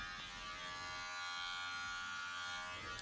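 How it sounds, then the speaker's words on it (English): Wahl Magic Clip cordless hair clipper buzzing steadily and close up while trimming hair with a 6 mm guard, a continuous electric hum with no talking. "I'm gonna use the Wall Magic Clip Cordless, which is a really good clipper that I recommend to everyone that wanna cut hair"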